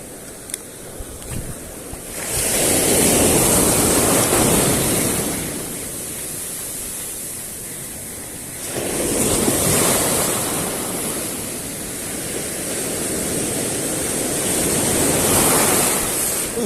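Big ocean waves crash onto the shore in two loud, sustained surges with a steady rush of surf and wind noise between them, close and without voices.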